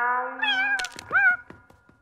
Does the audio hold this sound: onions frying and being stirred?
no